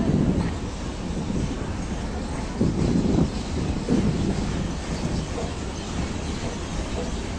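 The Una Jan Shatabdi Express pulls out of Ambala Cantt station, a loud, steady rumble of rolling carriages with wind buffeting and slight surges, filling the whole stretch without a break.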